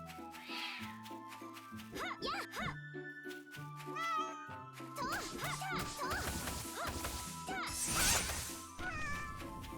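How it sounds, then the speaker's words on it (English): A cartoonish cat meows several times in the video game Rustil: Eternal Labyrinth Castle, with chiptune-style music and sharp hit and crash effects layered around the cries. "Meow indeed."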